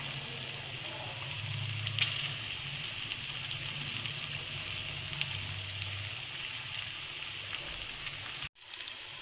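Paneer soaked in turmeric water sautés in oil in a pan for matar paneer, giving a steady, soft, close sizzle of frying that runs evenly throughout, with a faint low hum underneath and a brief dip near the end.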